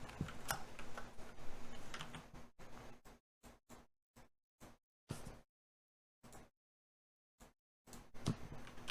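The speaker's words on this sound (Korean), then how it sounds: "타자로 칠게요" Keystrokes on a computer keyboard come in quick bursts of close, crisp clicks, then separate taps with silent gaps in between, and the dense typing starts again at the end.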